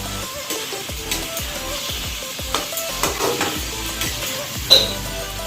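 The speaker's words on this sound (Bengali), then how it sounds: "এটা একটু ভাজা ভাজা হয়ে তারপরে মশলা দিয়ে পাঁঠার মাংসটা একবারে কষে নেব" Chicken and goat meat fry together in a pan, a steady close sizzle punctuated by regular scraping stirs and soft clinks of a utensil against the metal, with no talk.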